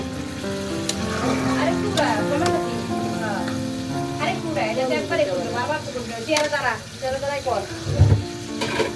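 Chicken pieces frying in a pan for pizza topping, with a crackling sizzle and stirring scrapes under a person talking throughout, ending with a louder clatter.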